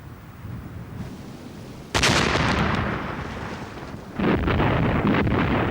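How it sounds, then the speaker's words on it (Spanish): German artillery fire during the WWII Blitzkrieg on the French defences, heard as a sudden heavy blast that rolls into a sustained rumble, then a second loud burst, with no voices. "la artillería alemana golpeaba duramente las defensas francesas"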